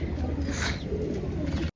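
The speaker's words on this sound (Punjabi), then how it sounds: "ਹੁਣ ਆਪਾਂ ਛੱਡਦੇ ਕਬੂਤਰ ਤੇ ਕਬੂਤਰ ਛੱਡ ਲਈਏ" Pigeons coo nearby in low, soft, throaty murmurs, a brief stretch of gentle cooing.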